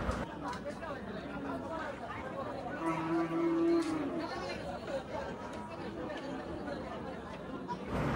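At the crowded Hazratpur cattle market, among big bulls including an Australian cross, one cow or bull gives a single clear moo under a constant hubbub of people chattering nearby.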